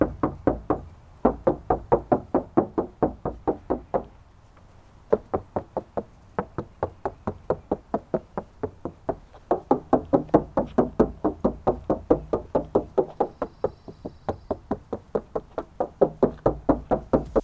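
Knuckles rapping on the doors of a Lexus GS350, one door sound-deadened with butyl material and one untreated, in rapid trains of sharp, close knocks separated by short pauses.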